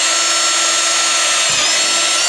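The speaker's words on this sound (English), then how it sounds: "we'll grab our drill and our nice Woody's little bit for drilling holes in this" Power drill boring holes for snowmobile studs, a steady high-pitched motor whine held close and loud, with a brief dip in pitch partway through as the bit bites.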